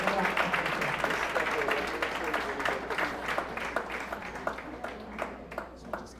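An audience at a women's excellence awards ceremony applauds, a dense, fairly quiet patter of clapping that thins toward the end, with a voice talking faintly underneath.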